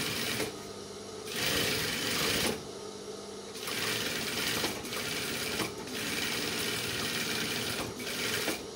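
A sewing machine stitches along the waistband of a pair of men's trousers, its motor whirring in steady runs broken by short pauses, close up and fairly loud, with no talking.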